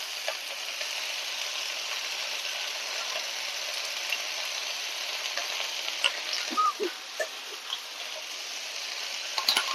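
Chopped Malabar spinach frying in a pan, producing a continuous hissing sizzle close by, broken near the end by light stirring taps, with no talk.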